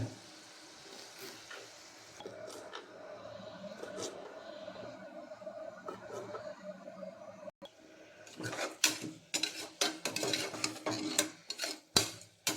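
Tomatoes are sautéed in a pan for egg biryani, a soft low sizzle at first, then louder clattering stirs and scrapes of a spoon against the pan.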